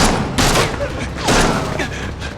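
Gunfire in a tense chase scene from a Chinese TV drama: a few loud, sharp bursts ring out close by over a noisy, bustling background.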